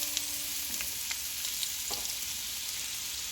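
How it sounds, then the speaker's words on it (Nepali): A medium-sized onion fries in hot oil in a pan, making a steady, close sizzle with a few faint crackles and light ticks of stirring, with no talk. "तेल तातेपछि मैले यसमा राखेँ एउटा मिडियम साइजको प्याज"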